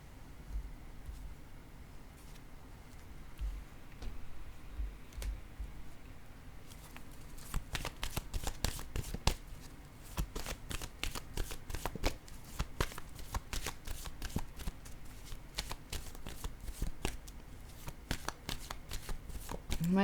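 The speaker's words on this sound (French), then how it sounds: "Je vais déposer une autre carte ici" A deck of playing cards shuffled during a card reading, with dense rapid riffling and snapping after a quieter opening stretch, close and steady, with faint speech in the background.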